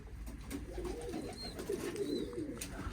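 Pigeons in a loft with many young birds, giving soft, low, repeated coos that are faint against a steady background rumble.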